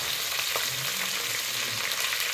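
Curry leaves, cumin and fenugreek crackling and sizzling in a few spoons of hot oil in a clay pot, a steady dense frying hiss with occasional pops, close and continuous with no talking.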